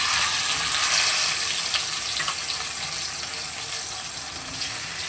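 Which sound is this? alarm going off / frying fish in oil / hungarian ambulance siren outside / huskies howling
frying fish in oil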